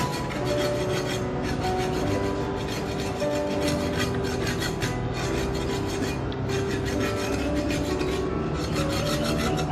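Coconut flesh is scraped by hand on a grater in a steady rapid rasping rhythm, close and loud, continuing without a break and with no voices.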